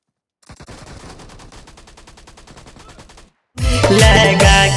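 PUBG gameplay on the Karakin map: a rapid automatic burst of gunfire rattles in even, evenly spaced shots for nearly three seconds, then after a short gap a much louder, harsher volley of shooting erupts.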